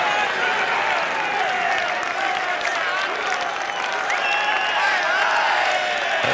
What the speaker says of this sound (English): The crowd are erupting.